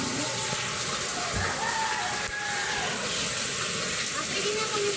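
Heavy storm rain with flooding pours in a steady, dense, loud wash, a constant hiss broken only by a couple of faint knocks, with no voices clearly heard over it.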